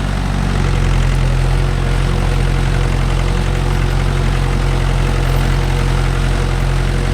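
A Mahindra 575 DI tractor engine runs steadily in gear with a cage wheel in a muddy rice field, a loud, close, continuous low diesel rumble with no break.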